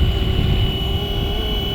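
Miniature scale Bell 206 RC helicopter on its maiden flight, a loud steady whine and rotor buzz held close and constant throughout, with no talk.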